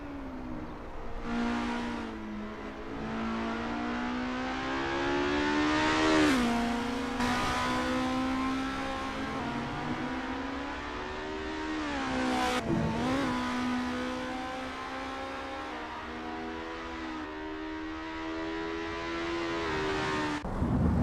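A race car engine in a sim racing game on the Zandvoort circuit drones steadily throughout, its pitch sweeping up and down through gear changes with sharp dips at shifts, continuous and loud with no talk.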